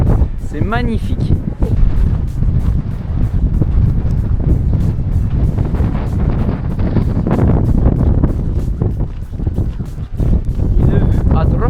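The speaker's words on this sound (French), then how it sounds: "Mais il y a un vent du diable" Strong wind buffets the microphone on a mountain pass in the Cézallier highlands, a loud, continuous low roar with gusting surges throughout, and voices are heard briefly under the blustering.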